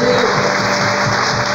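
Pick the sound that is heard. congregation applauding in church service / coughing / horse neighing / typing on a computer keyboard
congregation applauding in church service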